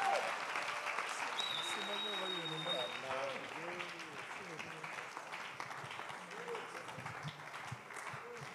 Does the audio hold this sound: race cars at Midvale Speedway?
no